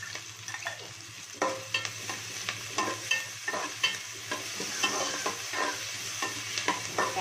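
Onion frying with ginger garlic paste for gobi manchurian, a soft continuous sizzle under repeated rhythmic stirring scrapes and clacks of a spoon against the pan.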